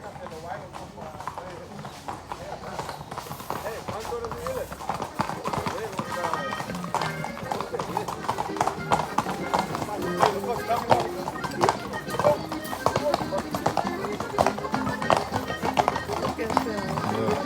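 Horses seen along a bike ride clip-clop with a steady run of hoof beats over continuous background noise, with voices talking throughout.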